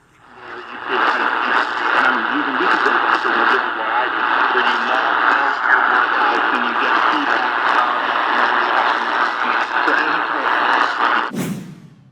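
A weak broadcast station received on an XH-Data pocket radio connected to an external antenna comes through as a steady hissy band of static with faint program sound buried inside, cut off sharply near the end.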